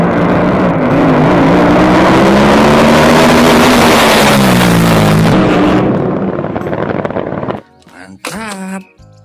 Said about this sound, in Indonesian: Wah, ada kapal speedboat.